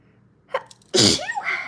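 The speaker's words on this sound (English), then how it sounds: "I'm going to sneeze." A single loud, explosive sneeze, close by, preceded by a quick sharp intake of breath and followed by a short tonal sound.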